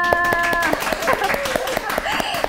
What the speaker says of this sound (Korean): 모든 스태프분이 박수로 맞이하는 게스트는 최초가 아닐까 싶은데요